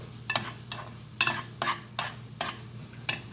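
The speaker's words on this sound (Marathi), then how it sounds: "आता मी टॅमॅटो टाकत आहे." A spoon stirs chopped tomatoes into frying onion in a pan for a mung bean chavdar: about seven scraping strokes at a steady rhythm over a low sizzle, close and clear, with no talk.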